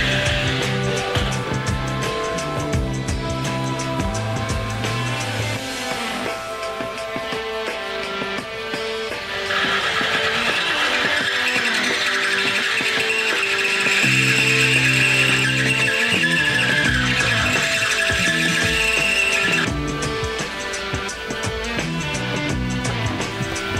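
Jeep steering knuckles are drilled and reamed to fit GM one-ton tie rods, with a loud grinding, whirring metal-cutting drone and tonal squeals that shift as the bit bites in and eases off over a long stretch, and nobody talks.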